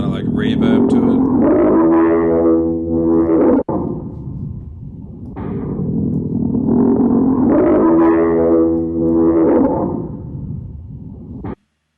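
Dubstep-style bass built from bird sounds, drenched in reverb: two long, growling, distorted tonal swells with wobbling harmonics, each ending in a cut, loud and alone.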